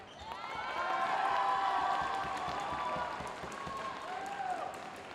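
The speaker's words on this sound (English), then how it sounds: "if you can hear that applause, that is for the women's badminton, which is going on the court across" A crowd at a women's badminton match at Roses 2024 applauds across a nearby court, a sustained, somewhat distant wash of clapping and cheering that swells and eases with no talk over it.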